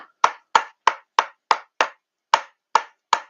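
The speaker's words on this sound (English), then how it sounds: "First, I'm going to tap out the air bubbles." A soap mold is rapped on a hard surface, nine sharp, close knocks in a quick, slightly uneven rhythm with a short pause before the last few.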